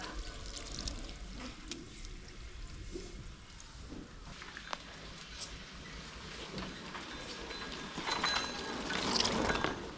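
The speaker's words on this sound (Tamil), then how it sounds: "தண்ணி வச்சு நல்லா அலசி விட்டாலும் மண்ணை விட்டு போகும்" Water splashes and runs as freshly dug produce is rinsed of soil in a village home, a continuous sloshing wash that swells louder toward the end.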